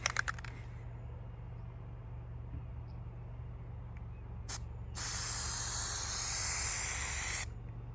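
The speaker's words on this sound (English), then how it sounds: "when you start to spray, you start farther out in one constant motion and then you stop" Plasti Dip sprays from an aerosol can onto a 2019 Chevy Silverado in a short burst, then a longer steady hiss of about two and a half seconds over a low hum.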